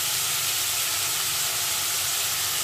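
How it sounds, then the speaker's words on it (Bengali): Chopped onion hits hot oil in a home kitchen and fries with a steady, dense sizzle and hiss that holds evenly throughout, fairly loud and close, with no voices. "তেলটা গরম হয়ে গেছে, এবার চপ করা পেঁয়াজটা দিয়ে দেবো।"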